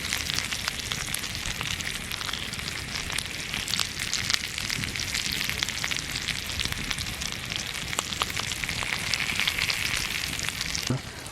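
Pork fat sizzles and pops as sekuwa cooks on a hot stone over a wood fire, a loud continuous crackling hiss with sharp spits of fat throughout.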